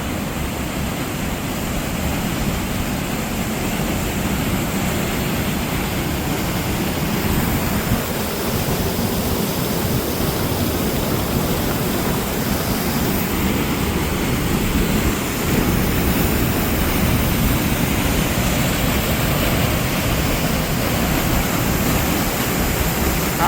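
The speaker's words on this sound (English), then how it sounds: "So I'll let you listen to this waterfall for a minute." Waterfall on the Mossy Creek Cave trail, a steady, dense roar of falling water heard close and unbroken, with no voices over it.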